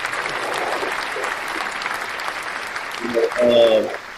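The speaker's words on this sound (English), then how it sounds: "Round of applause." Applause sound effect played during a college football podcast, a steady wash of clapping from a crowd that swells louder near the end, with some talk underneath.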